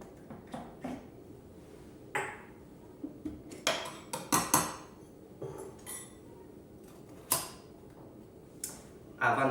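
A Frisk mocktail shaken in a cocktail shaker: irregular rattling clinks of ice and metal, a few sharp bursts and quieter taps spaced over several seconds, close and moderately loud.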